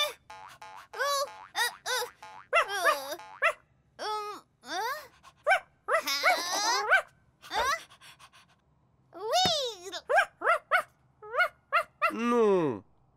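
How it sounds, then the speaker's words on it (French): An animated dog in a children's preschool cartoon gives a quick run of springy, whimpering yelps and barks, rising and falling in pitch at close range, with cartoon boing effects between them and no talk. "Gentil chien."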